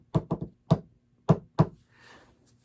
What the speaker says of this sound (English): Or knock on wood.